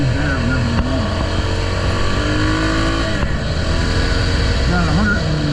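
A new dual sport motorcycle cruising on country roads in Chester County, a steady loud engine drone with wind noise filling the whole stretch and no pauses.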